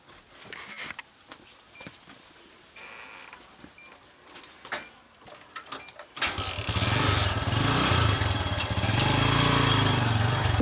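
A motorcycle sits quietly for about six seconds with scattered small clicks and knocks. Then the engine starts with a sudden burst and keeps running loudly and steadily to the end.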